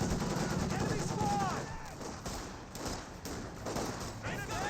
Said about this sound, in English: Over here I do hear the M15 now firing away.